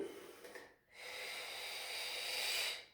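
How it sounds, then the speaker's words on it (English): Breathing during a yoga twist: a breathy inhale, a brief pause, then a long airy exhale that swells and fades, close and fairly soft. "Breathe in, exhale, we rotate."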